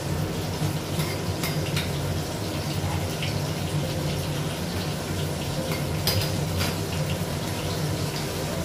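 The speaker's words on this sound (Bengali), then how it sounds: "আরো মাছ ভাজি, গ্যাসটা বাড়াবো।" Steady, dense sizzling hiss of fish frying in a pan, continuous and fairly loud throughout with faint clinks now and then.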